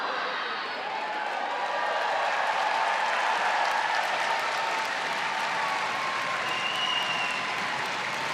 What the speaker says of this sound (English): welcome with applause the outstanding Dobyns-Bennett High School senior class of 2026